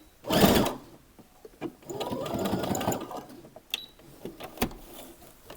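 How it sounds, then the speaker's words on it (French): A sewing machine stitches a garment sleeve in two close bursts of rapid mechanical whirring, the second longer, separated by brief pauses with small clicks and taps of handling; no talking. "nous avons terminé de coudre notre deuxième manche"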